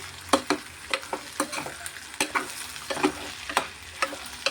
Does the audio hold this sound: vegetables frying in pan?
yes